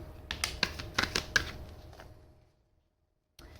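Tarot cards shuffled by hand, a quick run of crisp riffling flutters and snaps close by, tapering off into silence before a brief final rustle.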